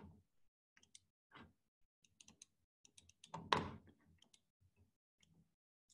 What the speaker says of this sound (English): and type in ebooks.